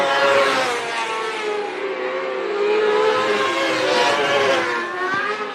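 Race cars roaring around the dirt oval at Marion County Speedway during a heat race, engines droning loud and continuous with rising and falling revs as the pack circles.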